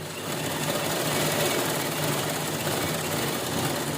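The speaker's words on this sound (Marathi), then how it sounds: "आता बरोबर आपण जसं पहिले आपण शिलाई केली तसं व्यवस्थित असं त्याला आपण शिलाई करून घेऊया" A sewing machine stitches a cushion cover in a fast, even, continuous whir of needle strokes, heard close and moderately loud with no talking.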